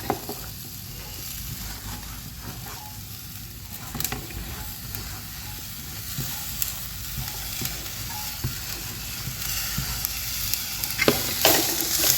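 Chopped ponnanganni greens drop into a frying pan of hot coconut and jackfruit seed mixture for thoran, giving a steady close sizzle with light stirring scrapes throughout, growing slightly louder near the end.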